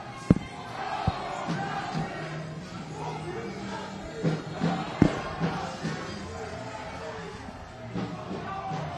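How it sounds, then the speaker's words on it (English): A large crowd of protesters moving through a city street, with a broad murmur of many voices, scattered shouts and thumps, and occasional louder cries rising over the steady hubbub. "There's a very large crowd following Lang through the streets with his handful of Nazis."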